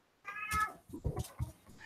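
A cat meows a few times up close, short whining cries with a brief pause between them.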